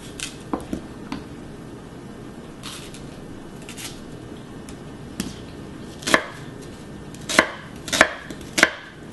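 Medium onions are sliced with a knife on a board, scattered light cuts early on followed by a cluster of sharper, louder chops near the end, with no speech.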